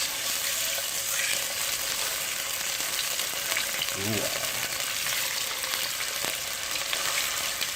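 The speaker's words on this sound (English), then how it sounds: "you hear that sizzling, mate?" Loud, steady sizzling of chicken searing in hot olive oil runs throughout, with a faint clink partway through.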